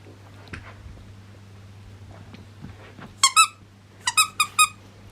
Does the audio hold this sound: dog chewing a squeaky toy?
yes